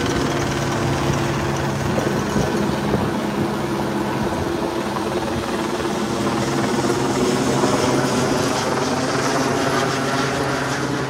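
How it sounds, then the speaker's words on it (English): A helicopter flies overhead at a protest against Santos fracking in the Northern Territory, a steady loud rotor drone sustained throughout with a low engine hum and broad whirring wash. "There's a helicopter overhead"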